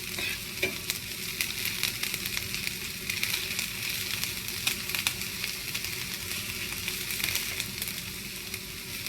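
Ingredients for a shrimp gravy sauté in a pan. A dense, continuous sizzle sits close and fairly loud, with constant stirring scrapes and faint crackles throughout.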